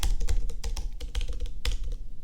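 Code is typed on a computer keyboard in quick, uneven bursts of close, crisp key clicks with short pauses between them, and no voices.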